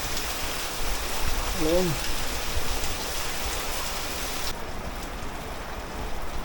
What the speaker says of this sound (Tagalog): So sa area na to medyo malakas yung agos ng tubig.